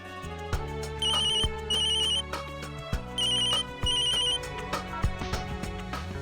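A telephone ringtone plays in repeated bursts over a melodic backing, with a few sharp taps and thuds between rings; no voices.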